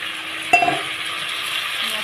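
Cut potatoes drop into spices already frying in a pan, giving a brief clatter followed by a steady, moderately loud sizzle with faint stirring.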